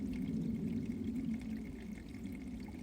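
Meltwater from thawing icicles dribbles steadily into a water collection, a continuous soft trickle and patter heard close and alone, with no voices over it.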